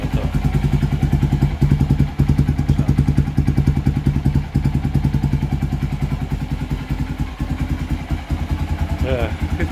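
A 2015 Honda XR150L motorcycle engine idles after a cold start, with a loud, steady, rapid exhaust thumping held close and even throughout, broken by a brief clatter near the end.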